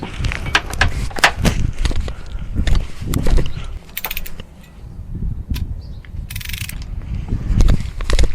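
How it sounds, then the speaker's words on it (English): Ratchet with a 14mm deep socket and extension on a breaker bar, working on a Volvo manual gearbox, giving loud close clicking and metallic clunks in irregular bursts throughout. "With a nice ratchet attachment to my breaker bar."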